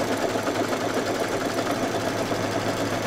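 An embroidery sewing machine stitches around quilt batting in an appliqué hoop, giving a steady, even mechanical whir that runs unbroken and close with no voices.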